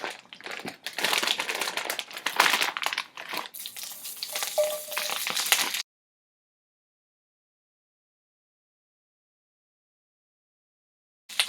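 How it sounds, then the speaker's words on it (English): Brussels sprouts dropping into hot olive oil in a pan for a steak dinner, giving a crackling, rustling sizzle for several seconds that cuts off abruptly into silence, with a brief burst at the very end. "After you add olive oil into the pan, go ahead and add some Brussels sprouts into the pan"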